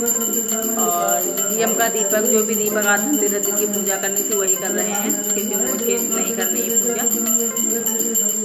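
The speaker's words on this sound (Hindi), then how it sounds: "तो अभी देख सकते हो आपको घंटी की आवाज़ सुनाई दे रहे हो" A hand bell rung steadily during Dhanteras puja worship at home, a continuous bright metallic ringing that carries through the whole stretch while someone talks over it.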